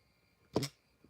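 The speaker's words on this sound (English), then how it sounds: "I think he just burped at me" A short, low, throaty burp from a dog, lasting about a quarter second, close by, followed by quiet.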